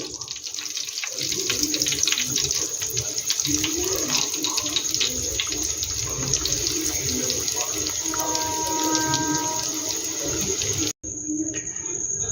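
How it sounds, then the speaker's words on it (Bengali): Spring potatoes being deep-fried in hot oil in a home kitchen: a steady, dense sizzling hiss runs close and loud throughout, with one brief cut near the end. "এই বাকিগুলো একইভাবে আমি ভেজে নেব"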